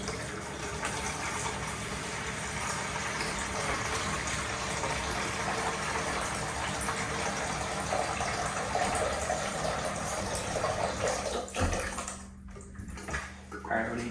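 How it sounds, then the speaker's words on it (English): Water gushes steadily into a container to be mixed with grout colour while building an off-grid house in the woods, a continuous close pouring rush that breaks off near the end, with speech over it. "All right, we gotta mix our color with our water."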